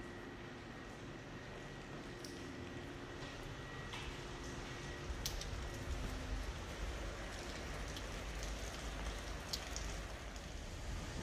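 Rain falls steadily on a windy walk outdoors in Spain with an umbrella lowered, a continuous close hiss of drops with gusty rumble underneath and no talking.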